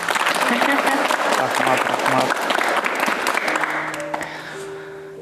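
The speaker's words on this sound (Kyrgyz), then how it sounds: "Бул кол чабуулар сиз үчүн." A studio audience applauds steadily on a Kyrgyz television talk show set, the clapping loud and dense from the start, with voices speaking over it, then thinning and fading toward the end.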